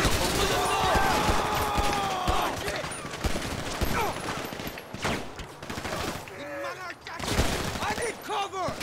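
Gunfire in the video game GTA V during a heist, with bursts of rapid shots and scattered crashes under a voice talking over much of the action.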